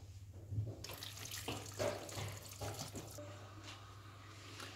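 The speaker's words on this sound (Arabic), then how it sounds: "هنا زدت 100 غرام ديال الماء" Water poured into a Thermomix bowl: a steady splashing, gurgling stream running continuously at close range over a low appliance hum, with no talking.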